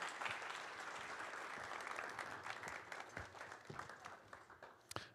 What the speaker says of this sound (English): I'd like another round of applause, please, for John.